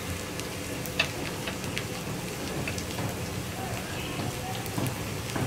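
Onions fry in a pan while being stirred, a steady soft sizzle with small crackles and scraping throughout.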